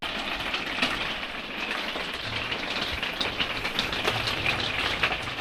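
Heavy rain drums steadily on a camping tent at night, a dense, even hiss of downpour close around, with no talking.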